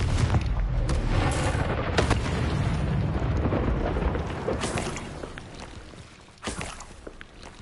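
Confringo spell explosions in the Hogwarts Legacy video game, a series of loud booming blasts and rumbling impacts over dense game noise, fading toward the end with one last burst.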